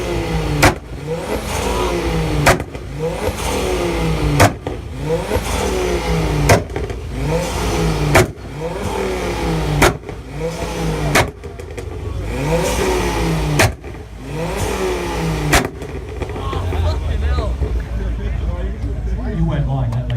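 Subaru engine revs hard at a car meet rev battle, with repeated loud, close throttle blips, roaring rises and sharp cuts, while a crowd cheers and people talk over it.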